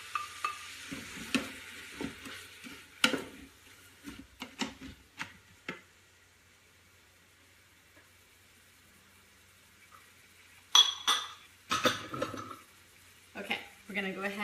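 Diced organic red pepper stirred in a pot with a utensil while making Cuban black bean soup, giving scattered scraping taps and soft sizzling clusters, with quiet gaps and some kitchen movement between bursts.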